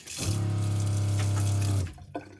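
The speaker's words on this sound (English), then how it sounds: "our water pump is super loud, so if I put it on," Loud electric water pump in a campervan running as the tap is opened, a steady strong hum with running water for about a second and a half before it cuts off, followed by a small knock.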